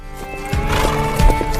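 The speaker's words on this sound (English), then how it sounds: "Yo, look at that horse, it's spinning!" A horse in a TV drama scene whinnies loudly over the sound of its hooves clip-clopping, close and prominent with low background music.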